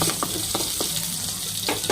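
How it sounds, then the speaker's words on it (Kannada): Chillies and cumin frying in hot oil while being stirred, a dense close sizzle with a rhythmic scrape of the spoon against the pan every fraction of a second; no voices. "ಸ್ವಲ್ಪ ಜೀರಿಗೆ ಹಾಕೊಳ್ಳೋಣ. ಆಮೇಲೆ ಮೆಣಸಿನ್ಕಾಯಿ ಏನು ಕಟ್ ಮಾಡಿ ಇಟ್ಕೊಂಡಿವಲ್ರಿ, ಮೆಣಸಿನ್ಕಾಯಿ ಹಾಕೊಳ್ಳೋಣ. ಹಾಕಿ ಮಿಕ್ಸ್ ಮಾಡ್ಕೊಳ್ಳೋಣ."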